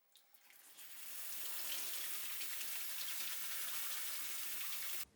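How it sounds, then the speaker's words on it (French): Buckwheat seeds are rinsed in a colander under a strong stream of running water, a steady close splashing rush that builds within the first second and holds, then stops abruptly near the end. "on rince avec beaucoup d'eau"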